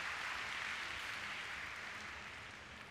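Audience applause in an indoor show jumping arena as a rider leaves, a steady wash of distant clapping that gradually fades toward the end.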